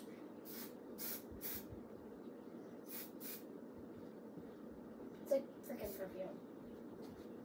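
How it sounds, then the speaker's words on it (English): Several short hissing bursts of an aerosol hair shine spray, spaced a second or two apart, close by, over a steady low background hum. "so I'm just gonna use this shining spray."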